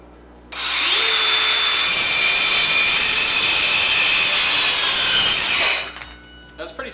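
A DeWalt Atomic 4.5-inch cordless circular saw cuts through wet wood, its high whining blade roar starting abruptly, holding loud and steady for about five seconds, then spinning down to quiet.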